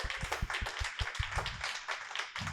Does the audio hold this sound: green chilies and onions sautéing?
no